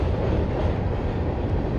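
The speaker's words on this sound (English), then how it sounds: "A train came by." A train passes nearby on railway tracks with a dense, continuous rumble and rattle of rail cars, loud and steady for a short stretch.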